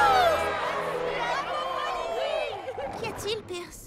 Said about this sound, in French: Une vague d'acclamations pour Pierce et Polly Pocket